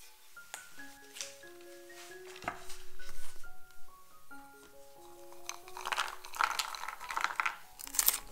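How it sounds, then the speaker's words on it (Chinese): A knife chopping walnuts on a board: soft, irregular crunchy cuts over gentle background music, quiet and close, with the chopping growing busier toward the end. "将核桃切碎"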